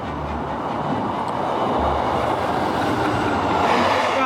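A train rumbling steadily across the Forth Bridge, a loud, continuous roar of wheels and steel with no break, heard close by and alone.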